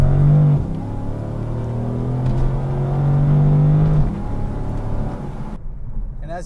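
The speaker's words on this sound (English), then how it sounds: "now we're in position ready to start our full throttle run." A 2014 Dodge Charger SRT8 with a 470-horsepower engine is pushed hard from inside the car, its loud engine drone holding a steady pitch, then shifting, before cutting away abruptly near the end.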